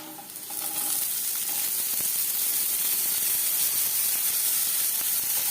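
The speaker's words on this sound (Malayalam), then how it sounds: "ഗ്രീൻ പീസ് ചേർത്ത് കൊടുത്തിട്ട് ഒന്ന് ഇളക്കി കൊടുക്കുക" Green peas stirred into sautéed onions in a pan for veg burger patties, giving a steady close sizzle with scraping, clinking stirring strokes throughout and no talk.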